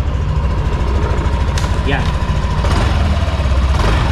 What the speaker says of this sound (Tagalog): Ito yung tunog ng makina natin, pakinggan ninyo.